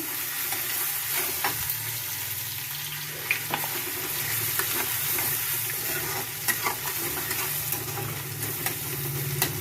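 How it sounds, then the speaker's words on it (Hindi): Onion frying in a pan for chowmein gives a steady, close sizzle with occasional stirring scrapes and clicks throughout, with no talking. "मैंने डाल दी प्याज और इसको थोड़ा हल्का सा भून लेंगे"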